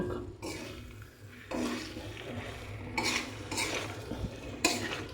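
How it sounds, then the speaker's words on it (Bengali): A lid comes off a pot and a spoon stirs curry, metal clinks and scrapes against the pot in bursts over a soft sizzle, close up with no voices. "একটু ঢাকনাটা খুলে নেড়ে দিই"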